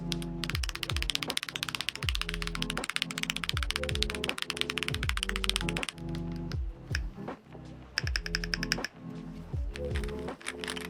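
Keycaps snap one after another onto the switches of a KiiBOOM Phantom 81 keyboard, a dense run of sharp plastic clicks and taps close up over a low, pulsing hum that briefly thins out midway.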